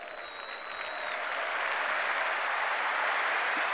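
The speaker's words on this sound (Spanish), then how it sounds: "El aplauso cerrado del público de River recordando a su ídolo." The River Plate home crowd in a packed stadium gives a sustained tribute applause, a broad, even roar of clapping from thousands that swells slightly and holds steady, with no commentary over it.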